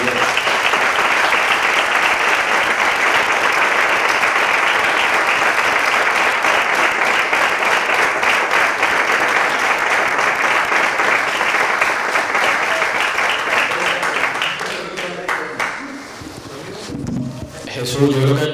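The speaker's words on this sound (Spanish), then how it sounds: "Yo quiero un reconocimiento y un aplauso a los 2 representantes que nos dieron" At a Spanish-language panel discussion, a studio audience gives long, loud applause for two representatives, a dense steady clatter of many hands that carries on for about fifteen seconds before thinning out, with voices starting up as it fades.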